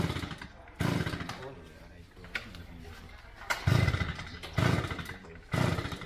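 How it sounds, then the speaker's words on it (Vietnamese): A chainsaw revs in repeated bursts, rising and falling as it cuts a dead coconut tree, with voices talking in between the roaring pulses. "để bà của Hoa cưa tiếp tục cái hàng dừa này"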